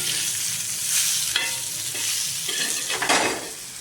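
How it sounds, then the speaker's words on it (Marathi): Prawns fry in a pan and are tossed over, giving a loud continuous sizzle that swells into bright hissing bursts each time the pieces are flipped. "आता ही कोलंबी आपली अशी एक एक करण्यापेक्षा अशी उलटी पालटी करायची आपल्याला."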